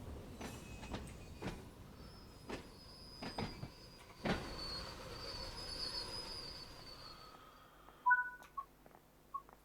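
Train doors unlocking on a train in Train Sim World 4 on the Isle of Wight route, a series of sharp mechanical clunks and clicks over a low rumble, followed by short electronic beeps near the end.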